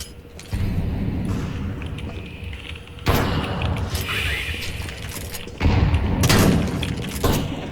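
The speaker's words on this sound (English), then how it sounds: "It's Molotov." A Molotov cocktail bursting into flames in Counter-Strike 2, heard as sharp glassy impacts and whooshing fiery bursts that recur several times over steady in-game background noise, with no voices.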